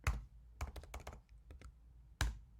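Keys on a computer keyboard are tapped close by in a quick irregular burst of clicks, ending with a firmer single keystroke, with no voice.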